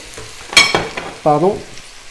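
Potatoes and beetroot fry in hot butter in a pan, a soft sizzle broken by two louder scraping stirs of a utensil, close up and with no one talking.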